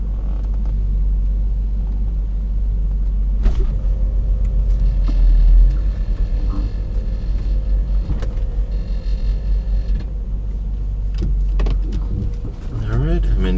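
A BMW X5 backing out of a garage, its engine a low steady rumble up close, with mechanical clicks and a motor whir as the mirrors unfold, plus occasional knocks near the end.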